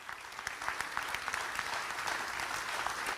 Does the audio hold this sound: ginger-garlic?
no